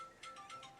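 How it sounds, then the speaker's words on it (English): A phone rings during a grand strategy game session, giving a short electronic ringtone with a steady tone and a few repeating bursts, fairly quiet and alone. "that's my phone. Hold up 1 second."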